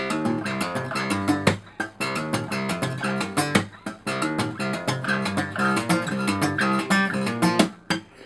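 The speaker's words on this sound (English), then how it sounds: "notice the slap with the thumb and the pop with the finger in between those sequences" Acoustic guitar playing repeated phrases from a song with percussive thumb slaps and finger pops between notes, a busy, steady rhythm of bright plucked tones and sharp attacks, close and clear with no talking.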